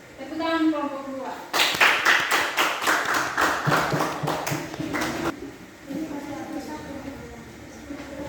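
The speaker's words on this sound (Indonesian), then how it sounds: "Tepuk tangan kelompok 2." Classroom applause for a student group in an Indonesian school lesson, a dense burst of many hands clapping for several seconds after a spoken prompt, fading as talk resumes.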